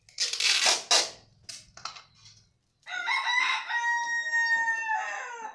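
Birds being packed for shipment to a buyer: close rustling and crunching bursts give way to a loud, sustained harmonic bird call that carries on for several seconds.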